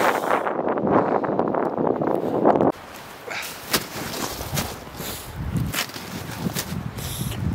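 Wind buffets a microphone outdoors in snow during snowshoe testing, a loud broadband rush for the first few seconds, then a lower, gustier roar with scattered thumps and crackles.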